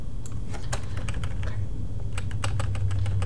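A computer keyboard is pressed for a Control V paste shortcut. Short clusters of crisp, close key clicks sit over a low steady hum.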